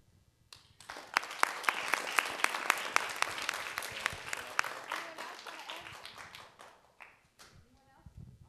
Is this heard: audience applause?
yes